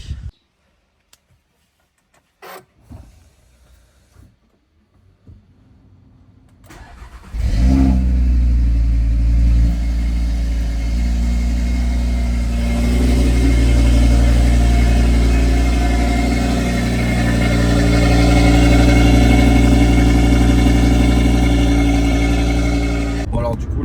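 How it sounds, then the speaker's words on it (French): An Audi RSQ3 on a short road test after a brake disc and pad change: the engine starts after a few clicks and thumps, then pulls steadily as the car drives, a loud sustained drone that rises and falls slightly. "Maintenant, on va passer sur un petit essai routier."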